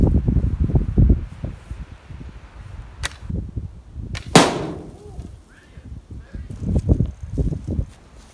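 A longbow looses a bodkin-pointed arrow at a steel plate, giving a sharp crack and a brief rushing whoosh over rustling and shuffling outdoor noise, with a second fainter snap earlier.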